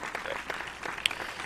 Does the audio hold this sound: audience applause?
yes